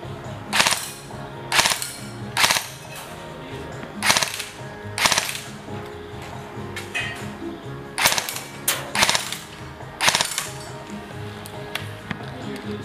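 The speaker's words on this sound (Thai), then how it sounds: "เรามาดูการทดสอบแบบยิงเบิร์สโหมด3นัดกันบ้างนะครับว่า" An ARES Amoeba AM-013 Honey Badger airsoft AEG fires in three-round burst mode, giving sharp close clusters of snappy shots spaced about a second apart, with no talking.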